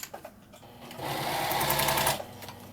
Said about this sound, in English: I'm going to sit down at my sewing machine, start at the top,